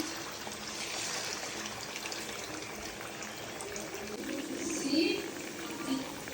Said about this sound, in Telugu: ఈ చికెన్ పకోడా మొత్తము బాగా డీప్ ఫ్రై చేసేసుకోవాలి.